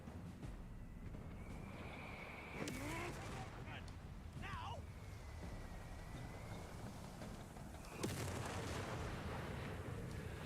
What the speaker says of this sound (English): Or maybe the artillery is just doing the job.